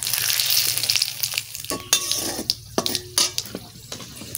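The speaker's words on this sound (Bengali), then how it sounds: "একটু তেল দিয়ে দিচ্ছি, তেল আছে বেশি দেবো না। গোটা জিরে, তেজপাতা," Whole cumin seeds and bay leaves fry in a little oil, giving a steady close sizzle broken by sharp clinks and scrapes of a utensil stirring in the pan.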